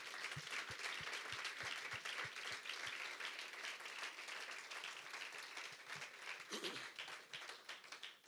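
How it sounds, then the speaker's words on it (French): A church audience breaks into sustained applause, dense clapping filling the whole stretch at a steady level, with a few sharper low taps near the start and murmuring voices faintly underneath. "est-ce qu'on peut les applaudir?"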